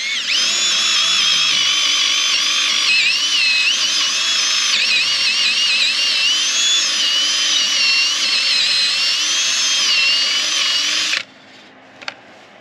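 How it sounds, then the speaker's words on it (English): A power drill bores a half-inch hole into a wooden post for a gate hanger, a loud, steady high whine that runs unbroken for about eleven seconds, then cuts off into quiet with a faint clink. "I'm just going to get a hole started in this spot I've already measured and marked."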